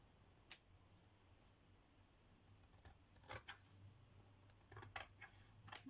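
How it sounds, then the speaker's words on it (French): Scissors trim excess kraft paper from a mini pocket letter craft, with a few sharp, quiet snips spaced apart against a near-silent background. "je vais découper le surplus ici"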